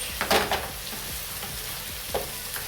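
A vegetable tortilla cooking gently in a pan, a soft steady sizzle with a few light stirring scrapes and taps, close by and without voices.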